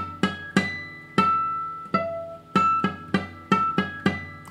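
Guitar notes sounded as harmonics two octaves above the regular pitch, bell-like plucks ringing out one after another at an uneven pace, close and clear with no talking.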